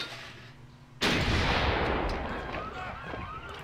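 Cannons unleash a ranged attack in the Civilization V strategy game, a single sudden booming blast after a quiet lead-in, followed by a long rumbling decay with scattered crackles.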